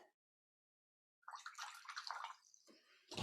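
A watercolour brush swished and rinsed in a pot of clean water, with splashing and trickling after a brief silence, ending in a clunk.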